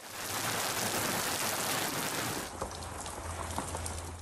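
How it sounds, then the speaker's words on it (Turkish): Heavy rain in Şırnak, turning to hail at times, falls in a dense, steady roar that fills the whole stretch, loud and close with no voices. "Şırnak'ta ise kuvvetli yağış zaman zaman doluya dönüştü."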